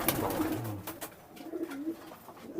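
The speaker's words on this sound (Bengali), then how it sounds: "এগুলো এটা দেশি পায়রা বলি আমরা" Local domestic pigeons coo softly in low, rolling murmurs, repeated a few times at close range against faint background noise.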